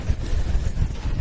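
Wind buffeting the microphone at a rain-soaked outdoor women's football match between Casey Comets FC and Spring Hills FC, a loud low rumble in gusts with no distinct rain patter and no talking.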